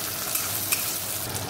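Ginger garlic paste frying in a pan with oil after potatoes, giving a dense, steady sizzle that fills the whole moment, close and even, with no talking.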